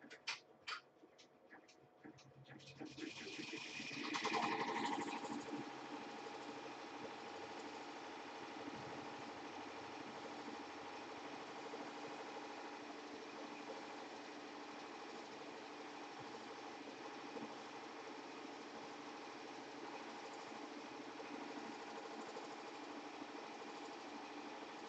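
An embroidery machine runs a placement stitch for fabric applique, a steady mechanical whirring with a fast rhythmic stitching pulse that holds at an even level throughout, with no talking.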